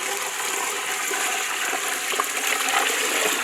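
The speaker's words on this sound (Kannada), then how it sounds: "20 ಲೀಟ್ರ್ ನೀರು ಹಾಕ್ತಾ ಇದ್ದೀವಿ." About twenty litres of water gush steadily into a large pot for chicken noodles, a loud continuous pouring rush with no talking.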